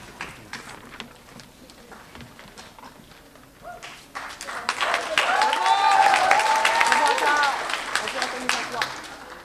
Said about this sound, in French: Et je crois que ça vaut une main d'applaudissement.